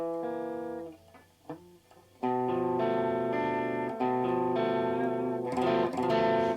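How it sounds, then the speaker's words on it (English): Guitar strumming a diminished triad, clear ringing chord tones that fade, a brief quieter pluck, then a louder sustained strum ringing out alone. "a diminished chord sounds like this"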